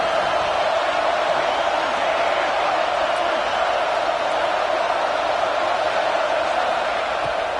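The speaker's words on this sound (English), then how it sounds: "this defense feeling energy from the crowd" Steady roar of a football stadium crowd during a Georgia Tech game on a third-and-goal play, a dense continuous wash of cheering and noise holding at one level throughout with no clear voices standing out.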